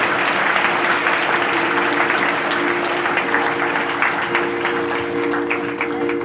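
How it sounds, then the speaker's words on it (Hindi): A church congregation at a Hindi-language Christian prayer service claps loudly and continuously in dense, sustained applause, with a faint hum of voices underneath. "जोर से ताली बजा के उस परमेश्वर को धन्यवाद देंगे।"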